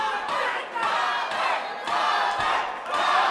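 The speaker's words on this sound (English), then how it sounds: "the crowd now cheering in acknowledgement of Javier Meraz" Boxing arena crowd cheering in steady surges during a fight between Roberto Meza and Javier Meraz, a loud continuous roar that swells and dips every second or so.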